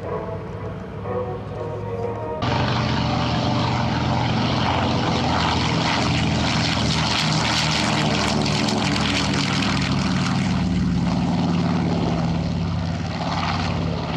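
A B-17 Memphis Belle bomber flying at an airshow in Hamilton, Canada, its propeller engines rising abruptly into a loud, sustained roar overhead after a quieter opening.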